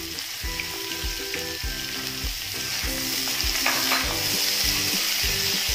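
Chopped onions fry in hot oil for an Odia jackfruit curry, a constant close sizzle broken by repeated rhythmic spatula knocks and stirring scrapes against the pan.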